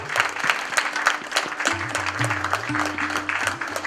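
Enthusiastic audience applause in a hall during a Bottled Water Day event in Mumbai, a steady patter of many hands clapping, while low sustained music tones play underneath throughout.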